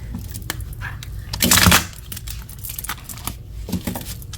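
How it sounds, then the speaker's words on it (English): Tarot cards are shuffled by hand in a string of quick, close papery clicks and flutters, with a brief louder burst of riffling partway through. "Do a little shuffle first."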